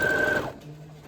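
A sewing machine runs briefly while stitching fabric for a puffy bow keychain, a close whirring hum that winds down and stops within a second.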